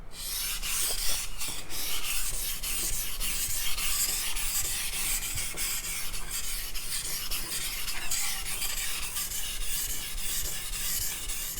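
A Chinese cleaver drawn back and forth across a sharpening stone, raising a burr, gives a steady, close rasping scrape with repeated strokes throughout and no voices.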